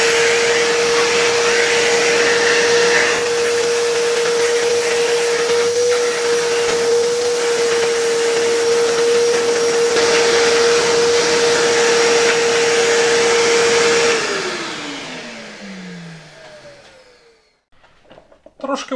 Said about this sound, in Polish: przyniosę mój odkurzacz i zaraz to wyczyszczę